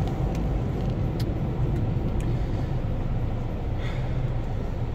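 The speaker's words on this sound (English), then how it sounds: "It's amazing amounts of traffic." Steady, dense road traffic drones on without a break, a broad loud rumble of passing vehicles close by with no voices over it.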